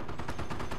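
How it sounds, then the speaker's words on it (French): A dive bomber's strafing machine gun in the video game Company of Heroes rattles in quick, evenly spaced bursts, fairly muted and continuous for under a second. "C'est un avion piqué qui va faire un mitrailleuse au sol."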